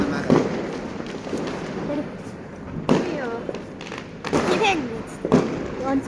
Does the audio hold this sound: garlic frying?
no